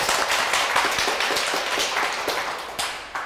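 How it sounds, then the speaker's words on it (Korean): An audience at a Korean talk event claps steadily and densely, many hands striking in a continuous fairly loud burst that tapers slightly toward the end, with no speech over it. "박수!"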